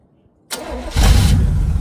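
A Chevrolet Chevelle convertible's 350 V8 cranks after a moment of silence and catches, then settles into a loud, close running rumble that steps up in level about half a second after it fires.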